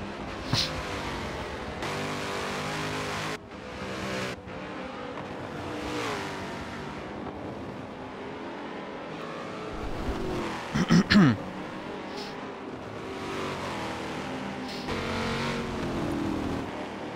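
Race cars in a World Endurance Championship racing video game, with engines droning and revving steadily, gear-change drops and a brief loud pass partway through, under commentary.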